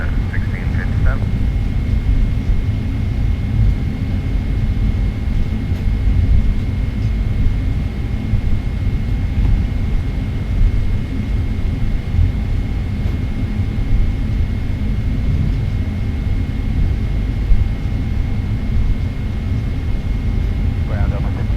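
A Boeing 777-300ER taking off from Singapore Changi under cloudy skies gives a steady, loud, unbroken jet engine roar that holds through the whole stretch.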